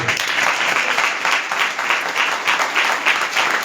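A Hindi-speaking church congregation claps together, a loud, close burst of applause that pulses in a loose rhythm as the hands fall partly into unison, with no voices.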